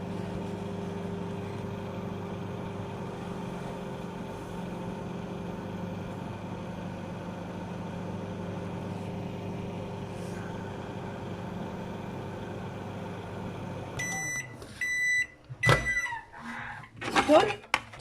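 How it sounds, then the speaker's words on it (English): A microwave oven heats a boilie mix with a steady, close, low hum for about fourteen seconds, then the run ends in a series of beeps and clunks from the door. "stick it in the microwave, 10 to 20 seconds"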